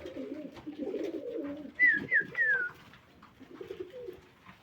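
Pigeons at a bird market cooing, a short run of three falling coos standing out over low voices talking in the background.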